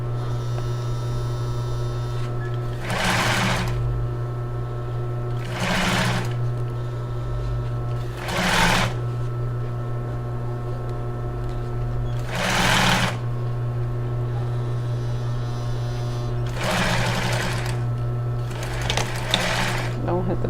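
A domestic sewing machine stitches a bra with lace elastic in short repeated bursts of rapid needle chatter, each run separated by pauses filled with a steady low mains hum, close and clear.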